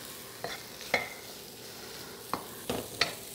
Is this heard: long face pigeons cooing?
no